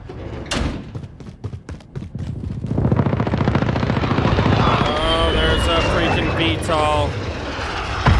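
A VTOL aircraft passes overhead in a video game, a rising, sustained engine roar that builds and holds loudly after a run of sharp clicks and shots. A voice talks over it.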